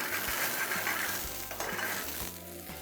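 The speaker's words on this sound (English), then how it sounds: "Just going to let them roast a little bit on the other side as well" Brussels sprouts roast and sizzle in a hot pan, a steady crackling hiss punctuated by light clinks and stirring knocks, close and moderately loud.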